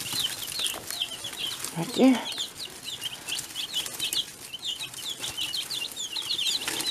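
Chickens and young chicks cluck and peep repeatedly in a coop, steady high chirps throughout with a brief lower cluck midway and a person speaking a word.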